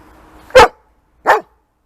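A guard dog gives two sharp, loud barks close by, spaced about a second apart, with silence in between and after.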